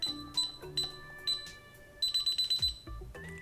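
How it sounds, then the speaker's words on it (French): Door chime from a DSC Power Series alarm keypad, a run of bright electronic tones with a quick rapid burst of repeated notes near the end, heard close and clear without talk. "à toutes les fois qu'on ouvre une porte, on entend ce bruit"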